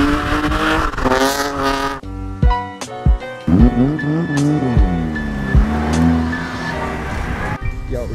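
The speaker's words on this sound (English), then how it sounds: "who is revving over here?" A car engine revs at a car meet during drifting tandems in pouring rain, with sharp throttle blips, rising and falling engine tones and tire noise, loud and close, punctuated by gaps.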